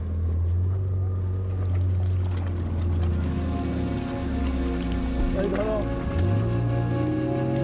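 A small motorboat pulls away from the jetty onto the Chandil Dam reservoir. Its engine drones low and steady up close over rushing water, and the pitch shifts near the end.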